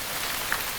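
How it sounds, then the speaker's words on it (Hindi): Steady rain pouring down in a scene from a Hindi-dubbed action film, a dense, even hiss of drops on surfaces with no voices over it. "मैंने कहा था ना कि बारिश होगी।"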